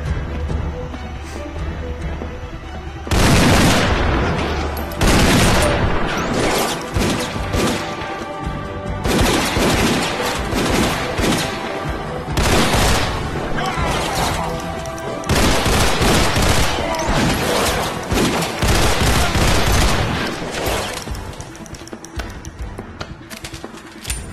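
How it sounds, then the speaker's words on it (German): Rapid bursts of dual-wielded pistol fire in the bullet-time VR wave shooter Dead Second, with loud, dense volleys separated by short pauses across the whole stretch. "Ich kann auch mal mit beiden schießen"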